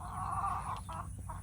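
Rhode Island Red hens and a rooster clucking in a backyard flock, a drawn-out call followed by a few shorter clucks, close and steady against faint background hum.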